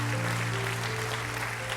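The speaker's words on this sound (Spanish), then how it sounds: "Vamos a dar un aplauso fuerte al Señor." A church congregation claps during a Spanish-language service, a fairly faint wash of applause over a steady low hum from the room's sound system.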